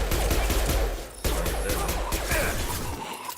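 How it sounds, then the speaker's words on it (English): Rapid bursts of gunfire in Mass Effect 2 Legendary Edition crackle in a dense, continuous volley, with a brief pause before the shooting resumes, loud and close. "I'm surprised they did not hear the gunfire"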